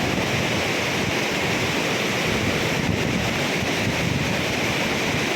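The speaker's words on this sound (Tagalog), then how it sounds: "ang lakas ng agos." A strong river current rushes over rocks through deep water among rock formations, making a loud, steady, close roar of churning water with no voices.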